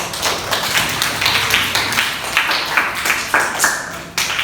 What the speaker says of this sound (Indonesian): Tepuk tangan untuk Ananda Adelia.